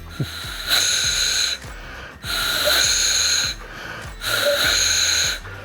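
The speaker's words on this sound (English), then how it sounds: "We're trying to learn how to properly operate a short reed goose call." A short reed goose call is blown in three long, raspy, breathy bursts, each about a second, separated by short pauses, close and fairly loud.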